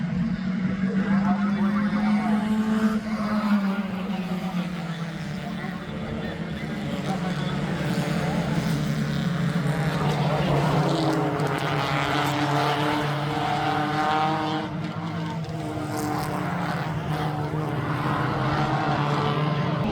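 A race car engine in a wet race accelerating hard at a safety car restart: a loud, continuous droning roar whose pitch climbs, dips and climbs again, close and unbroken throughout.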